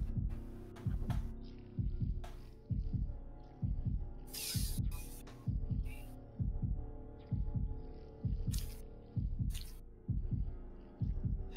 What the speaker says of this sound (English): Do you hear anything? Other than the heartbeat, no